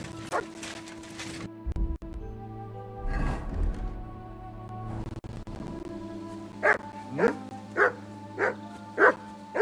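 A dog in Kingdom Come: Deliverance II barks in a series of sharp yips and woofs, loud and close, with rapid regular barks toward the end over a low sustained musical drone.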